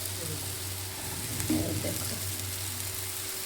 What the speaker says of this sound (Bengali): এই মাছগুলো এবার দিয়ে দেব সবজির উপর।